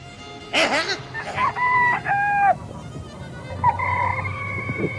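A rooster crows nearby in a long, harsh call, then crows again more briefly, with some background noise between the calls.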